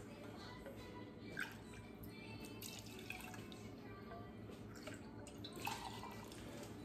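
Two shots of Woodford Reserve bourbon pour over two sugar cubes in a glass, a soft steady trickle and splash running through the whole stretch, with a faint voice underneath.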